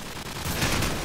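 Sniper rifle shot in a multiplayer team deathmatch shooter, a loud sharp crack among dense game gunfire, heard alone without talk.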